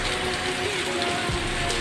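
Steady rain pours down outdoors in a wet, continuous patter of drops striking surfaces, loud and even throughout with no talking.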